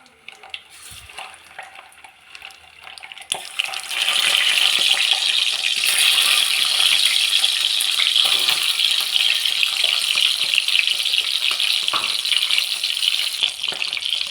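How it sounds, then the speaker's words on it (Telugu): Boiled eggs dropped into hot oil in a kadai, a quiet start with a few clinks before a loud, steady sizzle of frying takes over and continues close up to the end. "కొంచెం ఆయిల్ వేడైన తర్వాత ఈ ఉడకబెట్టిన గుడ్లను ఇందులో వేసుకోవాలి"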